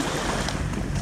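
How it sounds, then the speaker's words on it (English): Breaking waves on Lake Mille Lacs, a brief continuous wash of surf mixed with wind buffeting the microphone. "There's some breaking waves out there."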